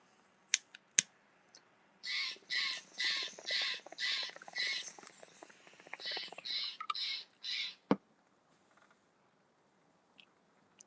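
Outdoors, a bird calls in a series of harsh, repeated cawing bursts, loud and close, a few sharp clicks and knocks scattered before and after.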